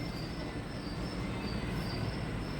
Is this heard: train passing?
yes